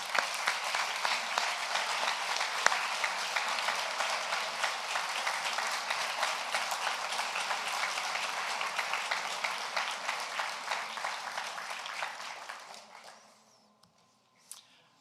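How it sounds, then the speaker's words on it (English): Sustained audience applause at a Lunabotics robotics competition awards ceremony, a dense roar of many clapping hands that holds steady for about twelve seconds, then thins out and dies away to a few scattered claps. "let's give a warm round of applause for all of them"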